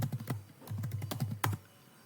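Close, quick keystrokes clatter across a keyboard while an account is being set up, a burst of irregular clicks followed by a brief quiet pause.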